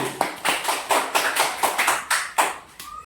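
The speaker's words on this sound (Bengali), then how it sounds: "হাততালি দাও ধরে" Audience at a ball-throwing food challenge game clapping hands together in a quick, even rhythm, roughly a dozen sharp claps, close and loud, with no speech over them.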